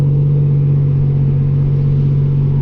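A 1987 Buick Regal Turbo with a Precision 6262 turbo, heard from inside while driving, its engine a loud, steady low drone with a strong hum and no voices.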